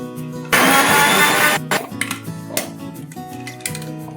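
A kitchen mixer grinds spice paste with a little added water for a koi fish recipe: a loud whirring burst of about a second, followed by scattered clatters and knocks of the jar.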